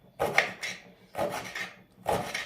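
Knife cutting peppers on a board for a homemade spicy pasta dish, three distinct close slicing strokes spaced about a second apart.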